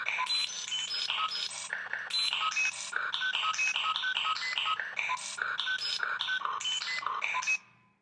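A kitchen stove's electronic beep sounds as a fast, continuous warbling tone pattern, loud and close, repeating steadily for several seconds before cutting off abruptly.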